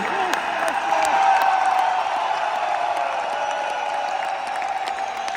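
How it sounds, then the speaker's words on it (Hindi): An audience applauds at an anniversary event in a stadium, a sustained wash of clapping and crowd noise that swells early and then settles, with voices mixed in. "जोरदार तालियां मिलती हैं"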